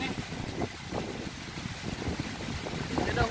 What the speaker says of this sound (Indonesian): Tidak hujan, ribut anginnya kuat.